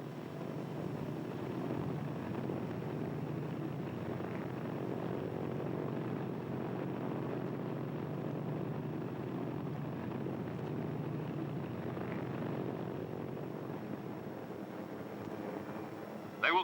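A Pan Am clipper aircraft taxiing and flying gives a steady, droning propeller-engine roar, even and sustained at moderate distance.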